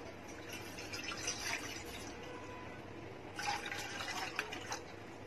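Faint water pours and splashes into a pan on a gas stove in two short stretches, quiet and close, with no talking.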